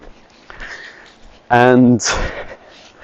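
A dog gives a few quick, close sniffs in a short burst, with a person talking nearby before and after.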